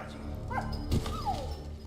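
A dog in Valiant Hearts: The Great War gives a short whimpering yip and a brief bark, close and clear over a soft game background.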